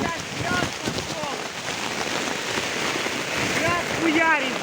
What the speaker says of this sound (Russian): Не, дождь, Ваня, дождь!